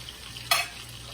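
Butter and oil sizzle in a frying pan while flounder is prepared, a short bright hiss bursting up midway and quickly settling under a low steady hum.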